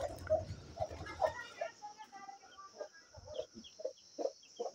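A hen clucking with her newly hatched black, white and multicoloured chicks in a village house, with repeated soft clucks and peeps close by, partly under a person talking.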